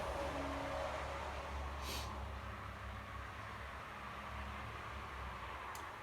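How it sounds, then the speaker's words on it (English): Steady, faint road traffic hums outside a home on a busy street, a continuous low wash of passing cars with a brief hiss midway and no talking. "I hope the traffic isn't too loud for you"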